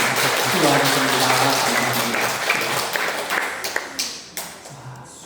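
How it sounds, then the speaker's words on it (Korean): A crowd claps together in a church, steady applause filling the indoor hall and then thinning out into scattered claps before fading. "오늘을 위해서 감사의 마음으로 박수 한번 드리겠습니다"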